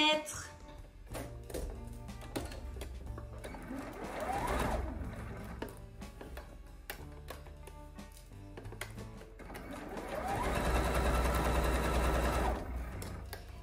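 A sewing machine stitches fabric in several close bursts of rapid mechanical chatter, the longest run near the end, with short pauses between them and a voice speaking quietly in the gaps.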